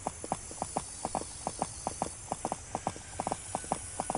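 Horse hooves clip-clop steadily in a horse-riding adventure video game, a brisk, even rhythm of paired hoofbeats that carries on without a break, fairly close, with a faint hum behind it.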